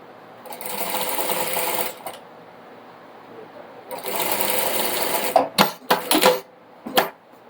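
A sewing machine stitches strips of fabric scrap for a leaf-pattern placemat, running in two sustained bursts and then a few short stop-start spurts, close and fairly loud.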